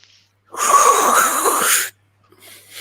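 A long, breathy hiss of inhaled suction lasts over a second, loud and close, followed by a softer exhale trailing off.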